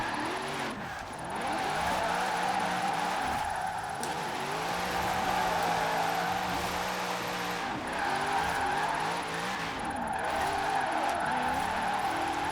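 Corvette C8 engine in the Forza Horizon racing game, a steady loud drone held in fifth gear with pitch rising and falling as it strains, occasional tire noise, no talk.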